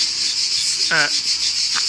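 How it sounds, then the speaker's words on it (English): Cicadas in the South of France make a steady high, hissing drone that holds through the whole clip, with a brief clearer tonal call near the middle and no speech. "Cicadas, generally called during daylight hours and at dusk"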